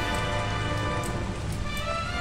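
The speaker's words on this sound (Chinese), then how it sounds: "这后室里边还能下雨啊" Rain falling inside the backrooms in the video game Lethal Company, a continuous dense hiss of drops on surfaces, steady and fairly loud for the whole short stretch with no talk.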